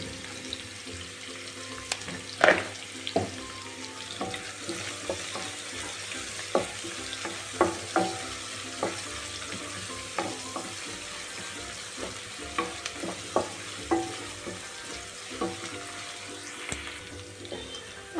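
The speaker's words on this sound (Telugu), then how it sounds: "ఈ ఆనియన్ మొత్తాన్ని మగ్గిపోయి కలర్ చేంజ్ అయ్యేంత వరకు కుట్టించుకోండి" Onions cooking down in a pan for chicken sherwa, a steady soft sizzle with intermittent scrapes and taps of the spoon as they are stirred, close and moderately loud with no talking.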